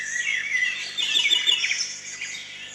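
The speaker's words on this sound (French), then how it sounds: "Les oiseaux chantent, picorent, puis d'un seul coup, tous les oiseaux s'envolent." Several birds chirp and twitter continuously at a drinking spot outdoors, a dense, fairly close chorus of bright calls with no talking.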